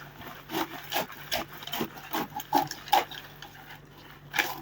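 Scissors cut out a paper sewing pattern for a bustier, making irregular crisp snips and rustling slides close by, with quiet gaps between cuts.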